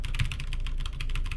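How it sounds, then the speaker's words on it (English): Rapid, even clicking of typing on a cheap Velocifier mechanical keyboard right beside a sensitive microphone, a dense run of sharp keystrokes close and clear with no talk. "keyboard sound because it's right next to my mic and it's like super sensitive"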